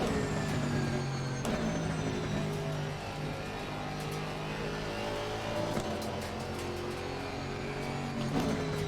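GT4 race car in Assetto Corsa Competizione, its engine droning and revving steadily through short gear changes, with brief sharp shift pops and a continuous loud close mechanical tone.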